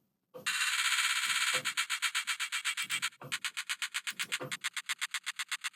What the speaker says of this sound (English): you're able to hear some of these presets and hear how these hi-hats sound